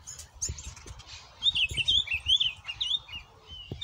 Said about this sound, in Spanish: Capaz que se queda el pájaro.